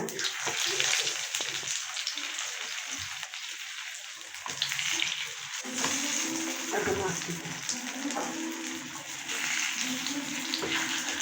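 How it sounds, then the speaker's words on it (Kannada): Fish sizzling as it fries in a little hot oil in a small pan for a home dinner, a steady crackling hiss running throughout at close range with some splashy bursts, while a person talks over it. "ಇವಾಗ ಎಣ್ಣೆ ಹಾಕೋಣ ಮೀನು ಫ್ರೈ ಮಾಡೋದಕ್ಕೆ ಸ್ವಲ್ಪ ಎಣ್ಣೆ ಸಾಕು"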